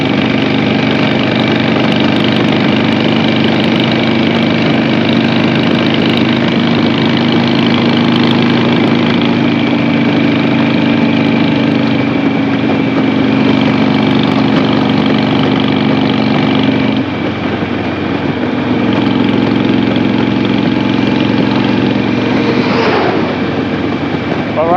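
An air-cooled 2006 Harley-Davidson Sportster motorcycle engine idles loud and close, a steady continuous rumble that dips slightly in pitch partway through.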